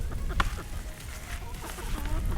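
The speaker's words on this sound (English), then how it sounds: "Now that we have a rooster out here" A rooster on a winter homestead clucks and murmurs close by in short, scattered calls over a busy, noisy outdoor background.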